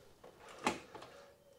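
A Mini Cooper's central locking clunks a single door lock shut, one short sharp mechanical thunk with a faint softer click after it, close by in a quiet car with no other sound.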